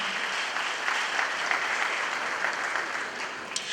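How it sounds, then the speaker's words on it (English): A crowd claps steadily for a few seconds, dense and sustained applause filling the room at a Supreme Court anniversary lecture at Manhyia Palace. "please, a round of applause for all of us"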